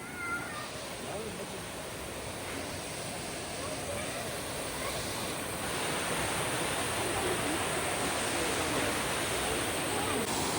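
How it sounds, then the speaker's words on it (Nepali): A waterfall along a hiking trail in Canada gives a steady, dense rushing roar that holds constant and slightly swells throughout, with no breaks. "यो चाहिँ अर्को झरना भइहाल्यो गाइज"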